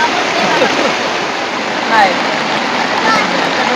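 Heavy monsoon rain pouring down after climbing a ghat, a dense continuous roar of falling water, loud and steady throughout with no pauses.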